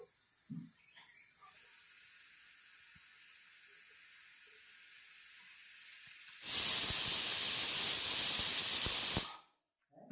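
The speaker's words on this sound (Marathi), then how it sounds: "आता डायरेक्ट कुकरला लावते" A pressure cooker full of vegetables gives a loud steam hiss that bursts in suddenly after a long quiet stretch, holds steady for about three seconds, then cuts off abruptly, with no talk.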